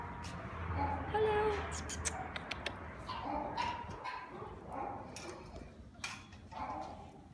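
Dogs waiting for adoption at a kennel yap and bark in scattered bursts against a busy, echoing room, with a little faint talk mixed in.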